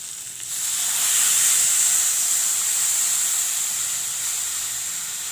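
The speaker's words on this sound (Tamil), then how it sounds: "இதில் வந்து நான் இந்த புளிக்கரசில் விட போகிறேன்." Tamarind water hits a pan of softened, sizzling tomatoes, setting off a loud, close burst of steamy hissing that swells quickly and holds as a steady sizzle before easing slightly.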